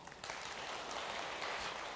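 A gathering's audience breaks into applause after a brief pause, then keeps up a dense, even clatter of clapping that holds steady to the end.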